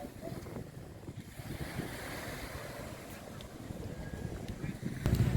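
Surf rolls steadily along busy Patong Beach in Phuket, a continuous wash of waves mixed with wind buffeting the microphone, with faint background activity throughout.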